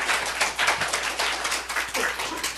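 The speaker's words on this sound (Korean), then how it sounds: "그렇게 하실 하나님께 박수 올려드립니다." A congregation in a Korean church claps in a dense, steady burst of many hands, fairly loud and continuous for a couple of seconds without speech over it.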